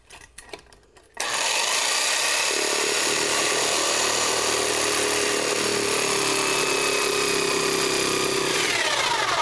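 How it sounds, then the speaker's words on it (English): A cutoff saw slices through a door jamb during a ceramic tile floor installation, starting abruptly after a brief quiet moment and then running as a loud, steady, continuous grinding rasp close by. "we're going to take this cutoff saw and go to work at cutting off the jam"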